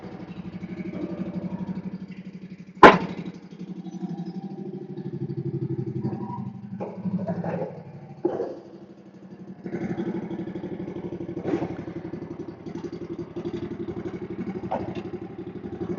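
An aging lawn mower engine, choked to start, runs in a steady low drone, with a sharp metallic clank early on and a few softer rattles as it idles on.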